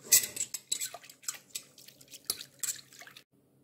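Yeast being stirred into milk and water in a bowl: a quick series of wet spoon clinks and splashy drips against the bowl, close and fairly crisp, stopping just before the end.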